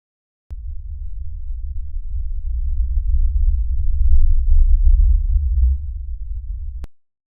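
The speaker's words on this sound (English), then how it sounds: "This is the bloop still at 2 times faster than what they actually measured." Deep underwater rumble of the Bloop ocean recording, sped up twice and amplified, a continuous low droning roar that swells slightly midway and stops abruptly, alone with no voices.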